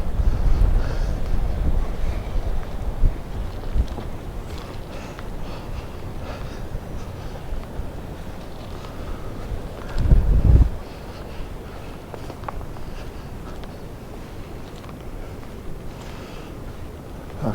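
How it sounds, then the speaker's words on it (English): Strong wind buffets the microphone on an island, a steady low roar with rain just starting, swelling into a heavier gust about ten seconds in. "it's a bit too windy to film anything exciting today"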